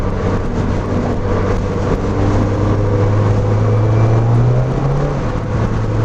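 Mazda NC Miata with a 2.5-litre engine swap pulling hard in fourth gear, its engine drone loud and steady from inside the car and rising slightly in pitch before easing back near the end.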